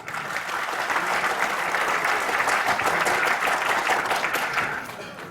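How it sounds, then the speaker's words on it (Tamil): An audience at a Tamil film audio launch event bursts into sustained applause, a dense crowd of clapping hands building quickly, holding steady for several seconds, then tapering off near the end. "நல்லா ஒரு கரகோஷம் கொடுங்க."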